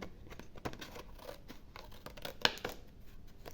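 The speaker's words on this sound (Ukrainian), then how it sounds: "І зайве потрібно обрізати ножицями." Scissors snip through paper strips to trim off the excess, giving a few soft, close cutting and rustling sounds, one sharper snip standing out, with no talking.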